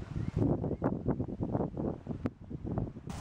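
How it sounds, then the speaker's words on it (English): Gusty wind buffets the microphone outdoors at a backyard barbecue where steak cooks over coals, a continuous rough, low roar with swelling and fading bursts. "Wow, it's really windy."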